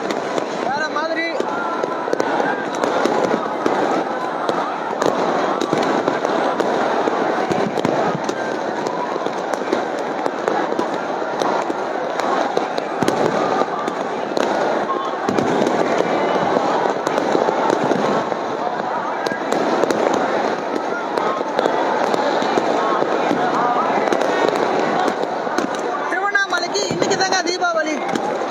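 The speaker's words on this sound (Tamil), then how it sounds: "தீபம் ஏத்தின உடனே எவ்வளவு பட்டாசு வெடிக்குது அப்படின்றத பாருங்க" Firecrackers bursting continuously at the Thiruvannamalai Maha Deepam festival right after the lamp is lit, a dense, loud crackle of overlapping pops over a crowd's murmur, sustained for the whole stretch.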